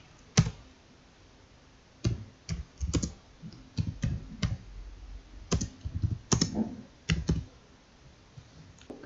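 Computer keyboard typing while code is entered in an Excel VBA module, irregular bursts of sharp close key clicks separated by short gaps, with no talking.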